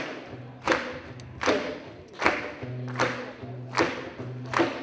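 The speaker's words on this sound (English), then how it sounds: "I need you guys to clap this big with me." An audience claps along in steady rhythm with a live music performance, with sharp, evenly spaced claps roughly every second over sustained musical notes.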